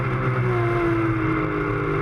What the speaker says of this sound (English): Great noise. 450 horsepower, Porsche flat 6.